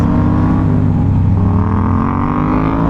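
A motorcycle engine revs hard and steadily as the rider gets back on the throttle mid-wheelie, a loud, close, continuous drone with no talk over it.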